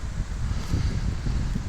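Steady wind buffets the microphone with a low, rumbling roar and faint rustling, continuous throughout with no voices, outdoors at Sugar River Forest Preserve.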